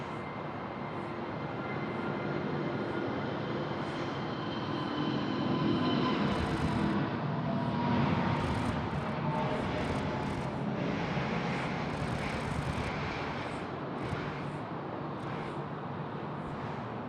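A jet airliner lands on runway 16 right at Sydney Airport, a broad steady roar of engines and rushing air holding loud and constant throughout, rising slightly mid-way with no talk over it.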